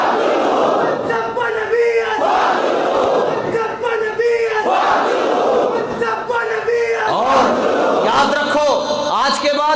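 A large crowd at a religious gathering shouts a slogan in rhythmic bursts roughly every two seconds. The chant is loud, dense and collective, with a leader's voice between the responses.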